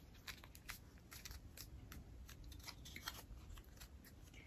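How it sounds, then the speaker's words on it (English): Scissors snip through paper to cut out a sock puppet mouth template, with quiet, rapid, irregular cuts heard up close at a steady low level. "I will cut out the mouth template."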